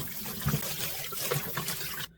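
Water running and splashing as bellflower (doraji) roots are rinsed in a basin, a close steady trickle and slosh with a few louder splashes, stopping abruptly at the end.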